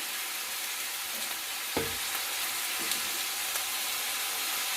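Hot oil sizzles and hisses steadily as spice paste thinned with a little water goes into a pan of frying rohu fish, with a couple of soft stirring knocks against the pan.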